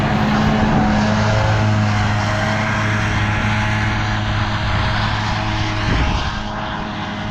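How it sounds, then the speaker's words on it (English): A new tractor pulling a new Krone mower through silage grass runs with a loud, steady engine drone and a humming tonal whine, close by and continuous, with no talking. "that's our new tractor and new mower"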